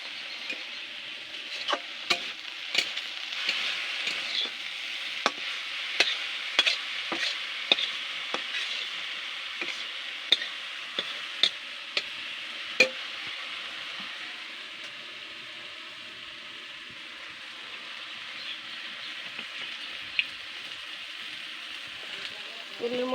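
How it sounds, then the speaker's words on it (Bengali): Jute leaves frying in oil with jackfruit seeds and chopped garlic give a steady hiss of sizzling, broken by clicks and scrapes of stirring, and it settles into a quieter, even sizzle toward the end. "শাকের মধ্যে তেল দেবে।"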